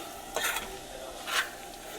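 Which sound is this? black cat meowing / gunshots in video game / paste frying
paste frying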